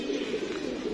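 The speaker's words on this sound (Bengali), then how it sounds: "আরেকটা কবুতর পর পিটাইতেছে" A pigeon coos in a low, continuous murmur, near and steady, for about a second with no voices.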